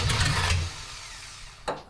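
A 1974 Dodge Dart Swinger small-block V8 cranks over with a loud churning burst that fades to quiet, followed by a brief second crank near the end.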